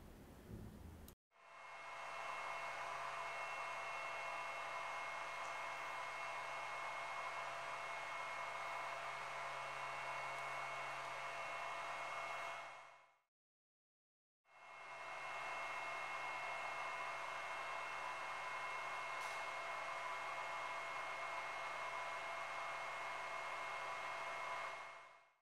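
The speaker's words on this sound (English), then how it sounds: "Here's the sound of it on idle and under load." A small 1U Flex power supply fan runs steadily at idle, then again under load, as an even, airy whir with a faint tonal hum, in two long stretches split by a brief silence.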